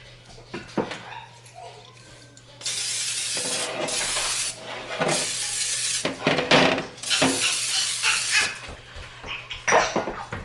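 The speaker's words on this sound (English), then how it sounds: "Let me spray my pan real quick." Cooking spray hisses onto a baking pan in several bursts of two to three seconds each, close by, mixed with clinks and taps of the pan.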